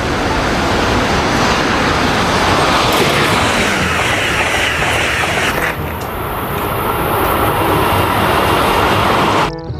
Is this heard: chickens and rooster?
no